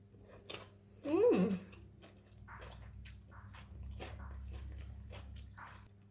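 Someone bites into and chews stir-fried snow peas with minced pork and rice, with a few close, moist crunching bites and softer chewing sounds over a quiet background.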